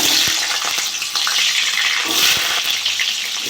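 Cauliflower frying in hot mustard oil in a wok, a loud close wash of sizzling with a few low thumps and stirring scrapes.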